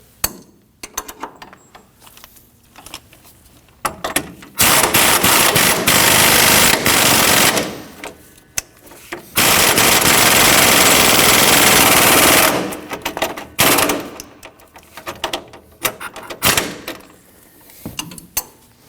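Impact tool snugging down the lower strut bolt on a 2009-2014 Ford F-150 front shock and spring assembly, heard as two loud sustained rattling bursts of about three seconds each, with quieter clicks and clatter between and after them.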